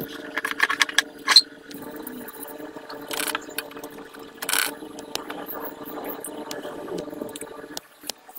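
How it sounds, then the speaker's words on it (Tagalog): Small screws being removed from a dirty household electric fan during cleaning, heard as scattered clicks, ratcheting turns and light metallic taps at close range over a quiet background, with brief louder rattles. "pinagtatanggal ko nga muna pala dyan yung mga tornilyo niya"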